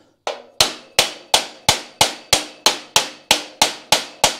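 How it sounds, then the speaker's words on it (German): A plastic mallet taps welding table parts flush on a perforated welding table with 900 holes, twelve evenly spaced sharp knocks close by, each ringing briefly before the next, with no talk. "Und dann kann man jetzt hier mit dem Kunststoffhammer"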